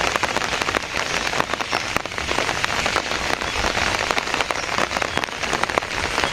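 Heavy monsoon rain pours in a rural Bengali village, a dense, steady hiss of drops hammering surfaces with no let-up and no voices.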